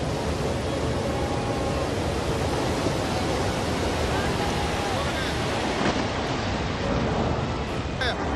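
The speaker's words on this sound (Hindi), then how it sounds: "कानों को फाड़ देने वाला शोर है और ऐसी तीव्र धार जो सबको चीरते हुए आगे बढ़ती रही" A deafening glacier-burst flood torrent in Chamoli, Uttarakhand, roars as a continuous, loud, broadband wash of rushing water, steady and unbroken throughout.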